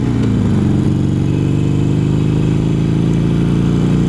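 Motorcycle engine running steadily while riding on a cool Las Vegas evening, a continuous loud low rumble and drone with mild fluctuation, no talking.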